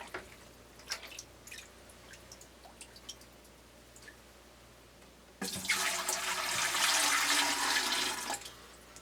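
Water is scooped from a bucket and poured into a gravity water filter, with a few faint drips and clunks, then a loud sustained splashing pour lasting about three seconds.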